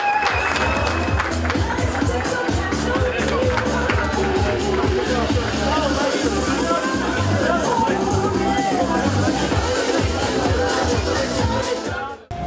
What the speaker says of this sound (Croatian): molim vas da ga nagradite jednim velikim aplauzom